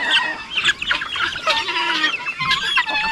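Chickens and a rooster of a fighting-cock line clucking and calling on a backyard farm, a busy overlapping chorus of loud, close squawks and clucks with no talking.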